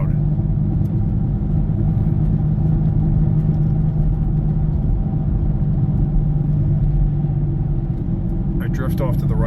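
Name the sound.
worn right front wheel bearing noise in a driving car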